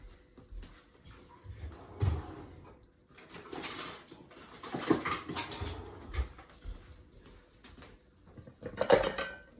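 Plates and cutlery clink and scrape while chicken curry, braised kale and rice are served, with scattered clatters and knocks at moderate distance against a quiet kitchen.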